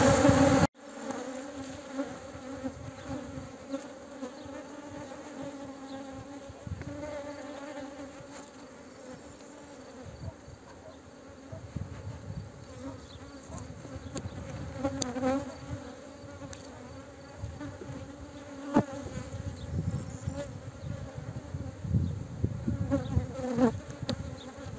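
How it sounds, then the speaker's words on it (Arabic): Agitated honeybees swarm thickly in an opened hive while a queen excluder is fitted, making a loud, continuous, close drone with a steady layered hum and no talking. "النحل أصبح شرس في الخلية هذه"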